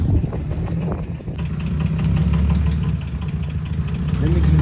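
A car with a broken exhaust idles close by with a loud, rough, throaty rumble and an uneven low pulse, and a person talks over it.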